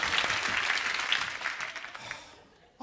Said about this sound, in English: Nice clap for the 2 doggies